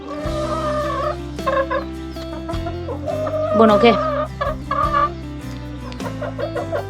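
Hens cluck and squawk nearby at a rural cabin, a busy flock with overlapping calls throughout, while people speak briefly over the birds.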